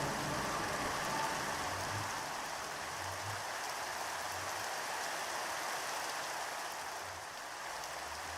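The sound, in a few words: rain falling in Minecraft video game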